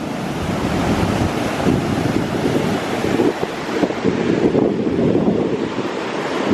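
Ocean surf washes steadily onto a Malibu beach, a continuous broadband roar of breaking waves mixed with gusty wind buffeting the microphone, with no voices.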